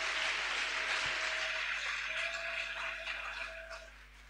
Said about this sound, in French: Put your hand together for the Lord God.